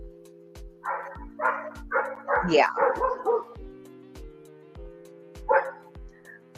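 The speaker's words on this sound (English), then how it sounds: "The dogs are barking." Several dogs bark in a quick, uneven run of yaps, then pause and bark once more, fairly distant and moderate in level over a steady musical drone, with a brief spoken word.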